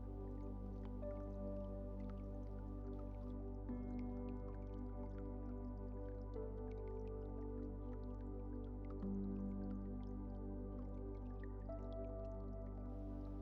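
Water drips in a quiet, steady patter of small, close drops over a low, constant background hum, with no one speaking.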